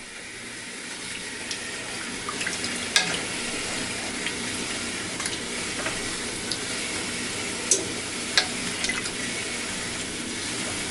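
Water spilled onto a hot stove burner sizzles with a soft, continuous hiss and a few sharp pops and crackles, faint and steady throughout.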